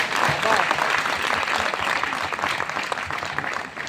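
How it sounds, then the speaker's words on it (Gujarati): An audience at a Navvanu 2024 gathering applauds a family, a dense, sustained round of clapping that stays steady and fairly loud for several seconds. "આવા આ દાદા પરિવારને આપણે જોરદાર તાળીઓથી વધાવી લઈએ"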